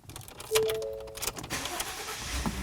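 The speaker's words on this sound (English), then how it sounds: "So what we're going to do is power up the truck" A truck engine cranks and catches, a brief starter whine followed by a running idle with some clicks and rattles, close and moderately loud.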